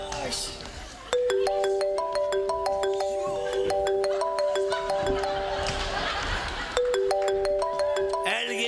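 A mobile phone ringtone plays a repeating melodic chime pattern, loud and steady through most of the stretch, restarting after a brief dip, under murmured voices and light laughter at a concert.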